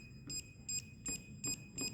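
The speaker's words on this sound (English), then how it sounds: "notify the screen is being touched with the help of buzzer" A DWIN touch screen buzzer beeps on each touch, five short electronic tones at a regular pace of roughly one every 0.4 seconds, close and clear over a faint low background hum.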